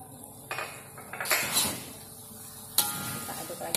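Aceh noodles with tomato and celery leaves get tossed in a pan, with several close metallic scrapes and clinks of a utensil against the pan, a faint sizzle beneath, and loud clatters near the middle and end.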